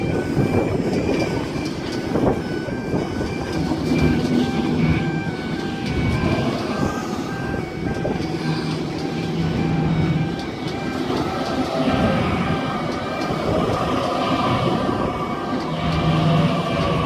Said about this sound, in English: At East Richmond, we have Series 1 Waratah A8, slowly arriving on platform number 1 for a North Sydney service.